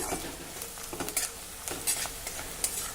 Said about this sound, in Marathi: हा कांदा आपण आता थोडा हलका तांबूस रंगाचा होईपर्यंत परतून घेऊ